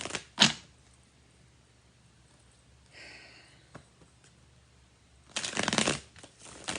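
Tarot cards are shuffled close by in two short brisk bursts, one at the start and a longer one near the end, with a soft rustle between them in an otherwise quiet room.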